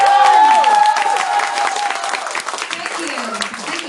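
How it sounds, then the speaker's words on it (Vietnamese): A crowd at a training session claps loudly in a sustained round of applause that slowly thins out, with a voice speaking briefly over the clapping. "các anh chị cho một tràng pháo tay thật lớn"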